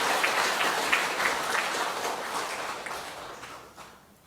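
Congregation applauding in a church after the choir's hymn, a dense steady wash of clapping from many hands that holds strong, then thins and fades toward the end.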